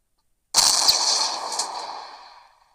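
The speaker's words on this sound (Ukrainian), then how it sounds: "Ось він отак от стріляє." A tank's HE shell shot in Roblox WW2 Tank Simulator: a single loud, sharp blast that cuts in from silence and trails off in a long fading rumble, heard alone.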